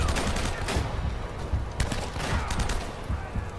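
Sustained gunfire in the shooter game Uncharted: Drake's Fortune, a dense stream of rapid shots and crackling impacts that holds fairly loud throughout.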